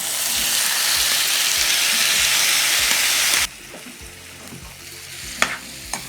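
Marinated vegetables for veg dum biryani sizzle loudly in a hot pan while being stirred, with steady frying hiss and scraping; the sizzle drops sharply partway through, leaving quieter stirring and a couple of clinks.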